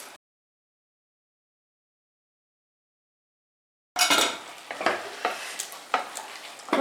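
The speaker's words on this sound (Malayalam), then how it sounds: "അപ്പോൾ ഇത് നല്ലോണം മിക്സ് ചെയ്ത് കൊടുത്തിട്ടുണ്ട്." A Malabar-style prawn dum biryani gets mixed in a pot. After a near-silent stretch, a few seconds of spoon scraping and soft clattering follow, close and moderate, with no voices.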